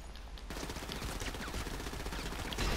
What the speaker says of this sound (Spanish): ¡Te metí 800 tiros y no moriste